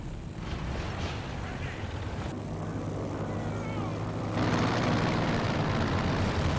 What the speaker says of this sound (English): we've got another recon plane